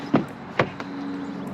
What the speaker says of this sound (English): I opened the door and it's right there.